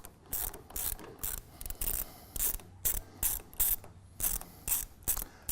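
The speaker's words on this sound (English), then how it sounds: "So you're just gonna go ahead and loosen this all the way out and pull this bolt completely out." Ratcheting as a bolt is backed all the way out of the belt tensioner end cap on a TigerStop saw-fence positioner: a close, steady run of sharp clicks and short grinding bursts, with no talk.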